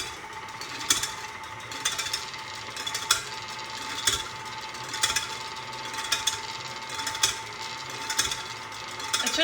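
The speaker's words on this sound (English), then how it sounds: "now I'm going to mix it so the eggs are beaten together" An electric mixer with a beater attachment whirs steadily as it beats eggs for pumpkin pie, a continuous mechanical drone with faint periodic clicks, close and alone without talk.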